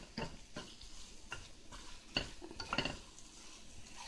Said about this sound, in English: Let me turn the eggs.